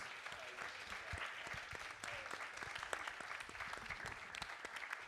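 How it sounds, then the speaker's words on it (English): An audience claps steadily and fairly loudly throughout, a dense patter of many hands with no talking. "I think you can give them a solid round of applause."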